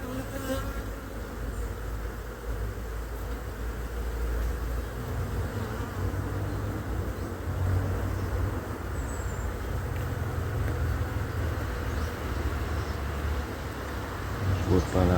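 Honey bees swarm around an open hive during an autumn inspection, a dense continuous buzz close to the microphone that holds steady from start to finish.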